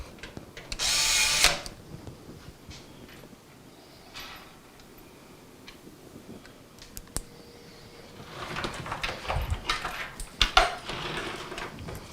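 Power screwdriver driving hex head screws into a PC power supply, a loud burst of whirring near the start and several shorter bursts later, with quiet handling sounds in between.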